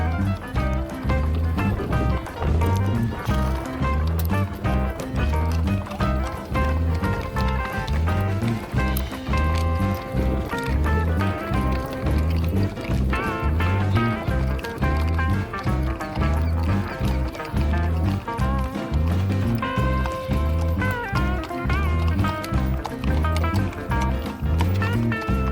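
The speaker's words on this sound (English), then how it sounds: "Here come the horses." Horses walk past in a parade at a rural Florida festival, their rhythmic hoofbeats loud and steady amid dense, continuous background noise throughout.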